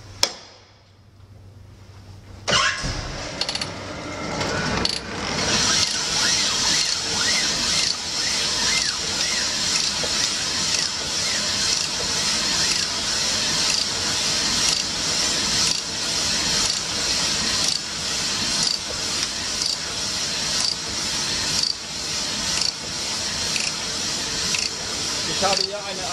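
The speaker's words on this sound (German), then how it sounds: "So, jetzt haben wir den VR6-Block auf der Hohnmaschine. Ich habe noch einen Zylinder zu honen" A honing machine works a cylinder bore of a VR6 engine block. After a sharp start, a continuous whirring, sloshing grind with rhythmic pulses and coolant spray runs steadily at close range.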